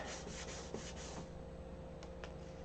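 Sandpaper sanding a wooden surface by hand in close, steady rhythmic strokes, about five quick passes followed by quieter rubbing and a couple of sharp scrapes near the end, with no talking.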